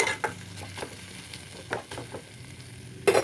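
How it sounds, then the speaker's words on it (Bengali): Whole spices fry in oil in a pan for potol chingri, a dish of pointed gourd with prawns. A steady close sizzle runs throughout, broken by scattered clicks and scrapes of stirring and a louder stir near the end. "মশলাটা আমার ফ্রাই হচ্ছে"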